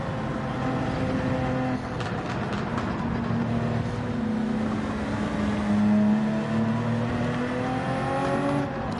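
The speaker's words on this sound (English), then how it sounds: "towards the end of the lap, what we're going to do is we're just going to warm it up by doing some more aggressive driving" Race car in a racing video game driven hard to warm its tires, with a continuous engine drone whose pitch rises and falls as it revs and shifts, steady and fairly loud.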